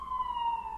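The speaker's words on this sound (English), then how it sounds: "sirens going by." Emergency vehicle sirens going by outside, a steady high wailing tone held throughout at moderate, somewhat distant loudness with no talk over it.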